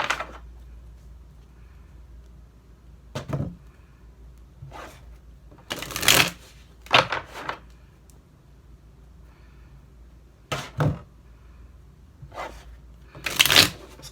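Tarot cards are shuffled in scattered quick riffling bursts, close and crisp, separated by quiet pauses.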